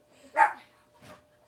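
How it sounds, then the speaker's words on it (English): A dog gives two separate barks, the first loud and close and the second softer, in a home during a live chat as guests arrive for a Christmas party. "Pardon the dog barking."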